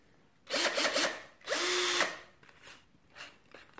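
A Parkside PBSA 20-LI A1 cordless drill runs close up in short bursts: a few quick rhythmic revs, then one longer whine of about half a second, then fainter brief pulses, with no talking.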